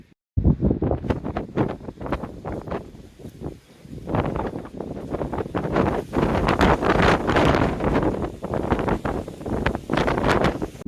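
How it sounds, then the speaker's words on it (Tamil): Strong cyclone wind at about 90 km/h, Cyclone Fengal, roars and buffets a microphone on a moving motorbike, loud and continuous with gusty surges throughout. "நைன்டி கிலோமீட்டர் ஸ்பீடில் வந்து விண்டு வந்து வச்சிட்டு இருக்கு."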